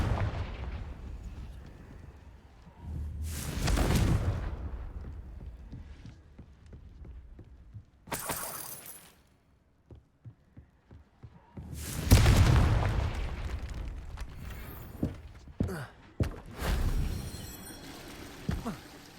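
Confringo fire spell explosions in the Hogwarts Legacy video game: several loud booming blasts with crackling tails, in bursts separated by quieter gaps.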